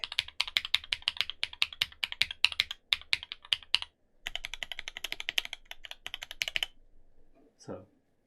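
Fast bursts of keystrokes on a Monokei KFE CE Special Edition mechanical keyboard, loud and close with a typewriter-like clack, pausing briefly midway before a second run and a final thud.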